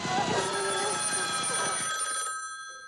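Telephone bell ringing loudly and continuously in the horror film Black Christmas, a bright metallic jangle that drowns out a woman's scream, then stops abruptly leaving a fading tone.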